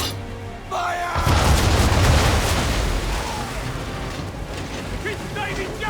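Ship cannons fire during an Assassin's Creed 3 naval battle, a deep broadside boom rolling into a sustained thundering roar, with voices shouting underneath.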